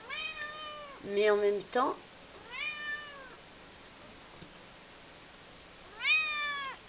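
A house cat meows several times close by, with rising and falling cries mixed between a person's spoken French.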